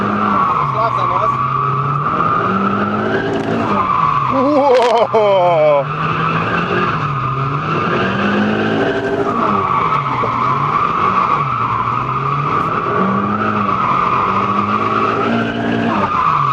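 A car drifts around cones on a training course, tires squealing and skidding continuously under a loud revving engine whose pitch swings up and down, with someone talking over it.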